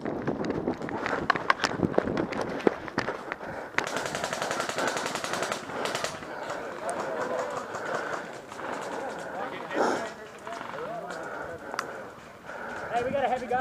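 Airsoft heavy gunner firing BBs in rapid automatic bursts during an outdoor attack-and-defend game, the rattling fire heard at mid distance throughout with players shouting nearby.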